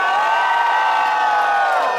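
Answering the host at the Ruthless XIII top-four event, a live crowd lets out a continuous loud roar of cheers and whoops that stays steady for two seconds with no pause.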